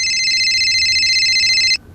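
A telephone rings with a bright, continuous electronic trill for nearly two seconds, then stops abruptly, leaving faint room tone.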